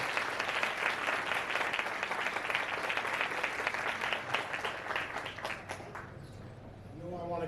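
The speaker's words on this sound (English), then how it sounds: "One last round of applause for all of them." Sustained applause from the audience at a county Teacher of the Year awards ceremony, dense and steady for several seconds before fading away near the end.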